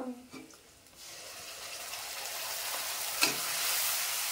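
Ginger and garlic frying in a home kitchen pan, with a few utensil clinks at the start, then a rising, steady close sizzle and one sharp clatter of a spoon.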